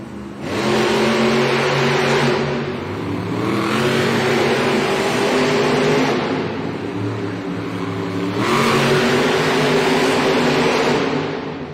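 The Gravedigger monster truck's big engine roars and revs loudly at a Monster Jam arena event in Rosemont, Illinois, surging in three long waves over a steady crowd-filled din.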